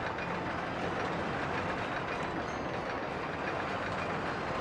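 A roller coaster train in RollerCoaster Tycoon runs fast along its track and around a loop, giving a steady, dense rumbling clatter that holds at an even level throughout with no voices.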